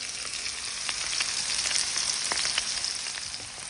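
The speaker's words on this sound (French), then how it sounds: "une fois que ça a sué un peu l'ail, l'oignon et le persil" Garlic cloves in their skins, onion and parsley frying in a pan for paella, giving a steady, close hiss of sizzling oil with small pops and occasional stirring knocks.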